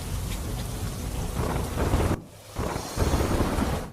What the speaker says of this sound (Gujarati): પોરબંદરના અનેક વિસ્તારોમાં વરસાદ વરસતા રસ્તાઓ પર પાણી ભરાયાના આ દ્રશ્યો સામે આવ્યા